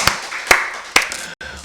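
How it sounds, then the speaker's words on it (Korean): Congregation clapping during a Korean church midweek worship service, several distinct loud claps spaced roughly half a second apart, with a voice faintly present between them. "우리 박수로 하나님께 영광 드리겠습니다."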